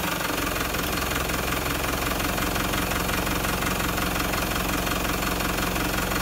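A car engine idling steadily while the A750F automatic transmission is put through its gears during an oil change, a loud continuous low rumble with a faint whine, close and unbroken.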